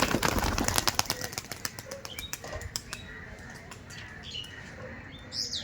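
A pair of Madras pigeons released by hand burst into loud, rapid wing claps that quickly thin into scattered flaps and faint chirps as the birds fly off.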